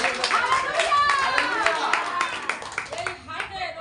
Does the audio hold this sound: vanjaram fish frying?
no